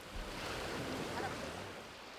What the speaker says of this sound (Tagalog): naramdaman niya ang dagat at buhangin